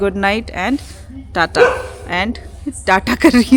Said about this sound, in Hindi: वो जो कुत्ता भौंक रहा है